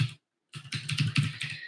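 A short burst of keystrokes on a computer keyboard, a single tap, a brief pause, then a quick run of close, crisp clicks in a quiet room.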